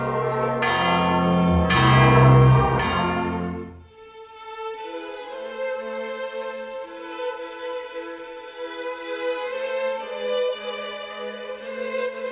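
Church bells at a Festa da Boa Morte ring loudly in overlapping peals, then give way to long sustained tones humming and fading, with no voices.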